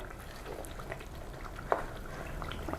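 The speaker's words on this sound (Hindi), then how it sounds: "मसाले को भूनते हुए 15 मिनट हो चुके और देखें अच्छे तरीके से भुना हुआ है मसाला" Masala spices fry in a pan for achari chicken, a low, thick bubbling and sputtering hiss with one brief sharp pop partway through.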